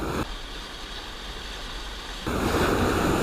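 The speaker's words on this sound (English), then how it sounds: "So this is a river wave." River wave of water pouring over a cement slab or rock, a steady broadband rush that swells louder and closer near the end, with no voices.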